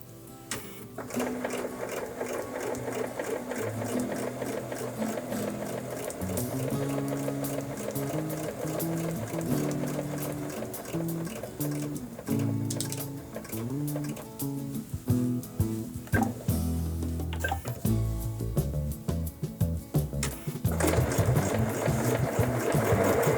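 A sewing machine stitches in the ditch along a quilt seam, running steadily and close with a continuous rhythmic whir and needle clatter, briefly pausing for a needle-down pivot before resuming.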